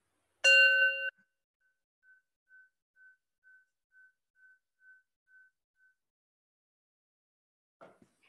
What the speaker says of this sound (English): Now we'll hear what the bell sounds like with original sound off.